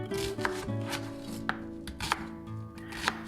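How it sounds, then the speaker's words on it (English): A knife rough-chopping an onion on a cutting board, a handful of crisp, uneven thuds close up in a quiet room. "I'm gonna rough chop the onion."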